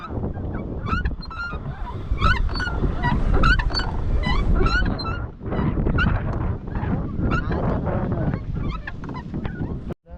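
A flock of ducks honking and quacking continuously, many overlapping calls, with wind rumble on the microphone.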